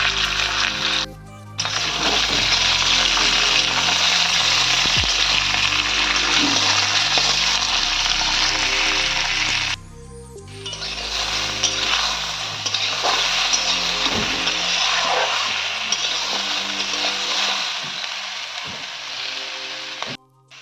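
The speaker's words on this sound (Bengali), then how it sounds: "আলু আর শিমটা আমি আগে ভালো করে ভেজে তুলে নেবো" Potato and flat beans fry hard in hot oil in a wok, a loud continuous sizzle and crackle that runs almost unbroken, dropping out briefly twice.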